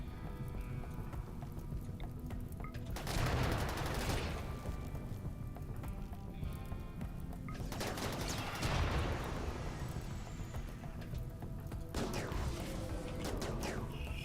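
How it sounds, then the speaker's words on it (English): Incendiary launchers firing during a chaotic RimWorld colony battle, bursts of dense crackling, booming blasts arriving in waves around a few seconds apart over a constant busy rumble, moderately loud and without talk. "A lot of incendiary launchers on this fight"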